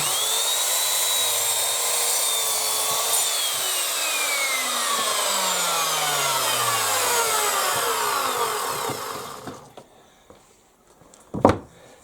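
A saw cuts through wooden floor boards for a shed extension in long, steady rasping strokes, loud and close, then stops with a few knocks and a sharp clatter at the end.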